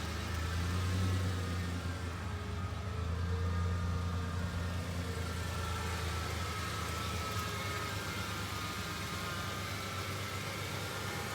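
A 1987 Ford Ranger pickup idles steadily after starting, a low, even engine rumble heard up close and alone without talk.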